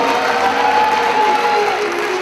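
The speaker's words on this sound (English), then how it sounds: "Let's give a big round of applause." Applause fills a hall at a pledge appeal for a new Jain Center temple, a dense, steady wash of many hands clapping at close range, with a faint sustained tone running underneath.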